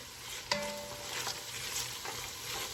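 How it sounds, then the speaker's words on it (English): Onion, celery and minced garlic sizzle softly in a pot for shrimp creole while a spoon stirs them, giving a faint steady hiss with a couple of light scrapes and clinks. "And we're just going to stir that"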